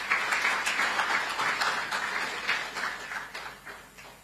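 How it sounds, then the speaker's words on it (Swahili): Audience applause for marathon runner Alphonce Simbu, honoured after the 2025 World Athletics Championships in Tokyo; steady, dense clapping from a crowd runs throughout, fairly loud and continuous with no talk over it. "Tumpigie makofi sana."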